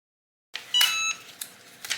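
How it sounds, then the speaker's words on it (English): A heat press chimes a short electronic ready beep once, followed by faint clicks and rustling nearby; no voices. "That little noise means that our Easy Press is ready."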